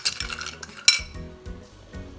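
A spoon clinks and scrapes against a bowl while mixing sugar and dashi powder, with a few bright metallic chinks followed by softer, quick stirring scrapes up close.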